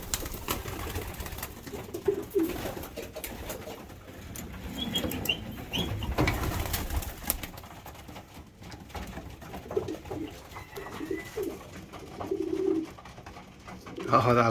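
Pigeons coo repeatedly close by near a pigeon trap, soft low calls rising and falling against faint outdoor background, with occasional light rustles that may be wings.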